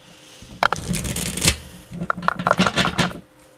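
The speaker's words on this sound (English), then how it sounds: "Let's shuffle out the tarot and clarify this" Tarot cards being shuffled by hand, close and crisp, in two bursts of rapid riffling and slapping separated by a short pause, heard alone.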